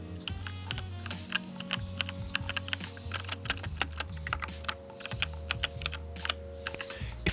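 A loud computer keyboard clacks under quick, irregular presses, sharp close-up keystrokes scattered over a faint steady hum, with short pauses between bursts.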